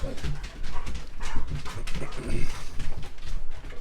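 Dogs being let outside, with barking and whimpering over a busy, continuous background of movement and voices close by.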